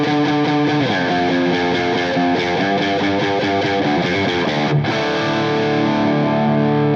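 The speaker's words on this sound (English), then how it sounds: "another guitar was tracked with the same thing, but the treble rolled way down" Distorted electric guitar chords with the treble rolled way down, giving a dark, muffled tone, playing steadily and loudly with sustained ringing notes and no voices.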